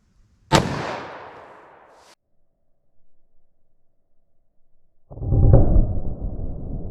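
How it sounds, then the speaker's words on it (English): A .327 Federal Magnum fires from a short barrel into MDF, one sharp loud crack that decays over about a second and a half, followed after a pause by a heavier low rumbling thud. "All right, 327 Federal Magnum through our MDF."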